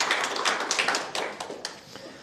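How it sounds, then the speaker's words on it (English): Church congregation giving a round of applause, with scattered, uneven claps that swell briefly and then thin out toward the end, fairly close and without talk. "Give him a round of applause."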